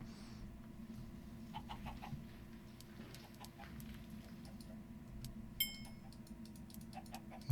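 Faint, sparse clucking from a dark chicken in the video game Harvest Mine, scattered soft calls over a low steady background hum, with no talking.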